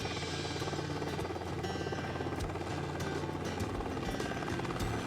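A small helicopter droning steadily with a fast rotor chop, loud and continuous throughout.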